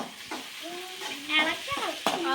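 A garlic mixture fries and is stirred in a pan, a soft sizzle under brief scraping strokes and a few clinks, with faint tonal squeaks from the utensil.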